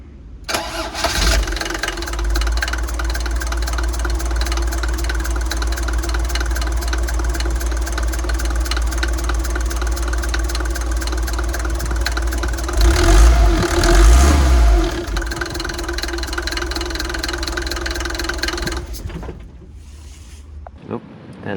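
A Mercedes T1 310D diesel engine starts and runs at a steady, loud, rattling idle, briefly revving up near the end before cutting off.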